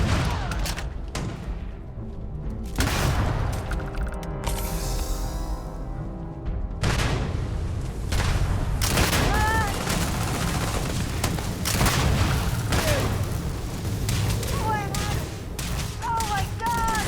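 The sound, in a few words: grenade launcher firing in video game Starfield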